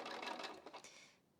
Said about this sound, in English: Just sewed that out of the way.